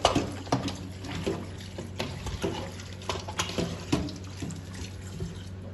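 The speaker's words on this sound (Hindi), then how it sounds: "फिर हमने इसको पानी के साथ अच्छे तरीके से इसको धोना है।" Raw chicken pieces being rinsed under running water in a kitchen sink, a steady faucet stream with irregular splashes and sloshing as the meat is handled, close and moderately loud.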